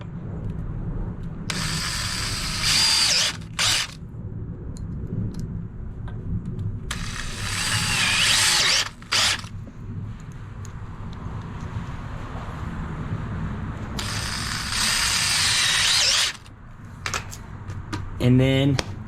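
Power drill driving screws into wood, three separate bursts of whirring a couple of seconds each, interspersed with someone talking and some handling clatter.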